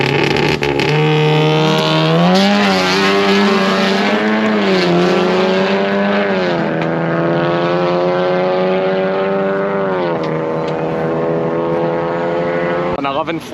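Ethanol-fuelled German drag car launching at Crail Raceway on a cold day, a loud sustained engine roar with rising and falling pitch as it pulls away, continuous for over twelve seconds.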